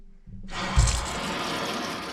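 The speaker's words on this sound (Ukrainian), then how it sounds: "Гілочки треба помити." Tap water starting up and running steadily as fruit tree twigs are washed in a sink, a close, continuous rushing splash after a brief clunk.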